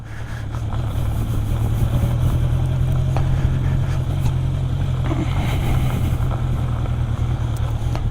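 A 1973 Honda 750 Four K3 motorcycle engine hums steadily at riding speed, with a low, even drone under constant wind rush throughout.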